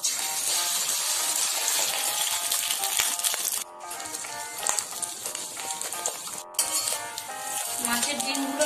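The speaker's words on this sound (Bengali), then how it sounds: "মাছের ডিমগুলোকে আমি বড়ার আকারে বানিয়ে ভেজে নেব।" Fish roe fritters frying in mustard oil, a close, bright crackling sizzle with spattering pops, briefly dipping twice before the hiss resumes at full strength.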